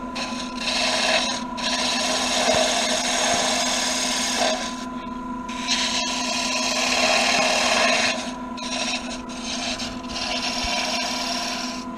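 Gouge riding the bevel to cut a wood workpiece spinning on a lathe for a door stop, a continuous rasping scrape with a steady motor hum beneath, broken by brief pauses between passes.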